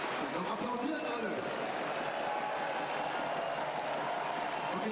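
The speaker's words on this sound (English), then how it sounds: "Noch applaudieren alle." Steady applause from the crowd at an indoor hockey World Cup semi-final, Germany against Iran, a constant wash of clapping with people talking over it.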